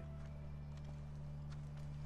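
Faint, rhythmic horse hooves clip-clop in the video game The Last of Us Remastered, soft and somewhat distant over a steady low hum, with no talk.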